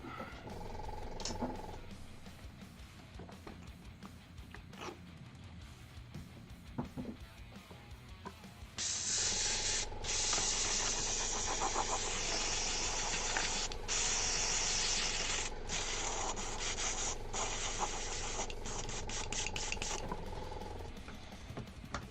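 An airbrush sprays paint in a long, steady hiss that starts abruptly partway through and holds continuously with brief interruptions, following a quieter stretch of low background noise.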